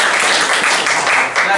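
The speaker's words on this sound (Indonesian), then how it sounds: "Kita berikan aplaus dulu." A class of students claps together in a room, a steady dense patter of many hands lasting the whole moment, with light voices mixed in.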